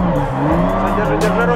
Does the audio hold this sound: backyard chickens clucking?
no